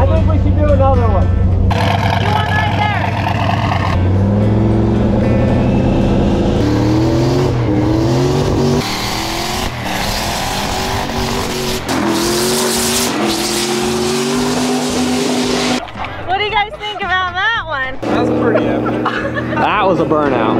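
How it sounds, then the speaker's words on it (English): A car does a burnout: the engine revs hard and loud, tires squeal and screech through rising and falling bursts, and people talk over the noise. "That was a burnout."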